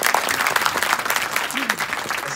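A lively crowd applauds steadily at a seaside event, dense clapping close and loud throughout, with a voice briefly audible underneath.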